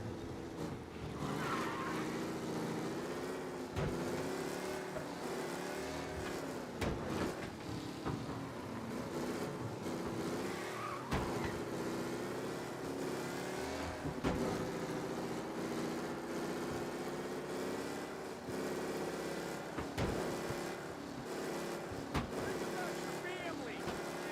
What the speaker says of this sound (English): Always was a difficult one driving that car.